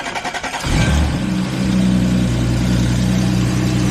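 Audi S4 engine cranks for about three quarters of a second, then fires and settles into a steady, loud running idle just after new spark plugs were fitted, heard close up with no talking.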